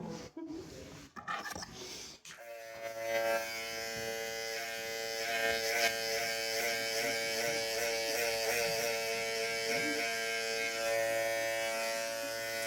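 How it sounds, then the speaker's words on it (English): Electric hair clippers cutting a high buzz fade: a few handling knocks first, then a steady close buzz that runs without a break, with faint movement of the clipper against the hair. "this is when you can turn the clipper too"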